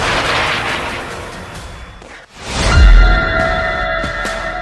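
A loud, deep Burkan missile explosion booms after a brief lull, its rumble rolling out over ongoing noisy background crackle.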